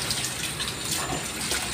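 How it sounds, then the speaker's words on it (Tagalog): Raw chicken rinsed under a running tap, with a steady, close gush of water splashing over it. "Hugasan na natin yung manok para malinis na."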